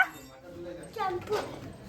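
A small puppy gives a couple of short, high-pitched yips and whimpers close by in a fairly quiet room.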